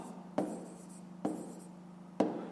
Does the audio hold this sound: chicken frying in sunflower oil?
no